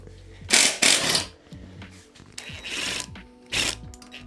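A ratchet undoes an engine mount arm bolt on a Mazda MX5 Miata NB, giving several bursts of rapid clicking separated by short pauses and metallic handling noise, close up.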